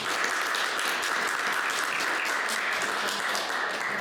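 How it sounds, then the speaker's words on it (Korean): Church congregation applauding together during a worship service, steady sustained clapping from many hands filling the room at even loudness throughout. "일어나셔서 박수 한번."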